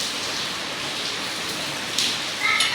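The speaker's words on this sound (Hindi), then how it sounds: "बारिश बारिश बहुत तेज हो रही है यहाँ" Heavy rain falls steadily outside, a continuous dense hiss of drops that swells slightly louder near the end, with no voices over it.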